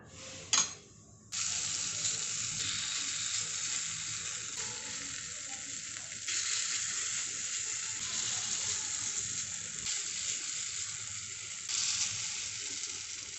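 Oil and appe batter sizzle in a hot appe pan over a low flame, a sharp burst of frying near the start followed by a steady, close hiss that swells slightly at moments.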